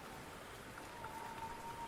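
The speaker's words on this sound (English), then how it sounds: "A few minutes later, a light rain begins to fall." Light rain falls in a forest, a soft, steady, faint patter with no break across the whole stretch.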